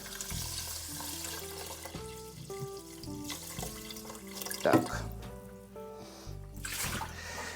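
Water running from a tap into a rice cooker pot, a steady pour with splashing that changes pitch as the pot fills, joined by clinks and a brief word spoken over it, while background music plays throughout.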